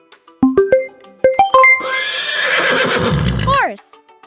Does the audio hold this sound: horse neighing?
yes